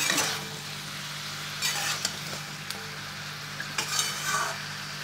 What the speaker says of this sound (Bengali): এবার ঢাকা দিয়ে আস্তে আস্তে করে কষিয়ে নেব। ঢাকা খুলে মাঝে মাঝে নেড়ে দিতে হবে।